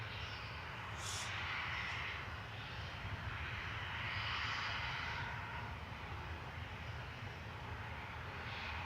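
A distant aircraft engine at Manchester Airport keeps up a low, carrying howl, faint and steady with a soft rushing wash, a brief higher whine early on and no voices.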